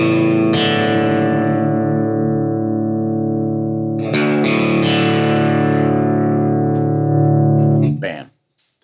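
An electric guitar with its sixth string dropped to D plays a heavy, distorted power chord across three strings. It rings out long and loud, is struck again partway through, then sustains before being cut off.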